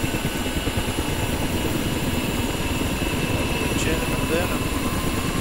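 A Ka-50 helicopter starting up in the DCS flight simulator, turbine whining and churning steadily under a rising rotor drone, continuous and loud throughout.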